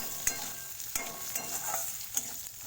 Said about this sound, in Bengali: লবণ, হলুদ অ্যাড করে অল্প সময় ধরে একটু ফ্রাই করে নেব।